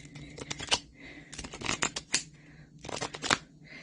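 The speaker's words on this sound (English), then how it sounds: "I've just given those a good shuffle." Quick bursts of riffling cards, crisp papery flutters in three short runs separated by brief pauses, close and fairly quiet.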